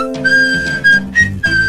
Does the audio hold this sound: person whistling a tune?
yes